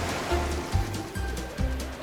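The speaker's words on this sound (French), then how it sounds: "Attention à la vague géante!" Cartoon ocean waves surge and wash in repeated bursts of broad, noisy water sound, fairly close and steady, with no talking over them.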